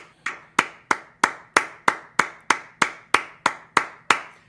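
A single person clapping hands in a steady, even rhythm, about a dozen sharp close claps spaced roughly a third of a second apart, loud and alone with no talk over them.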